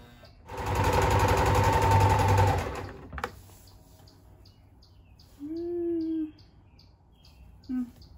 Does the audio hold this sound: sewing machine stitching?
yes